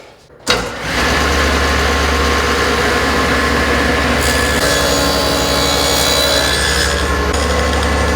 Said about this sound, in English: slide the sled back, and you are ready to cut your dados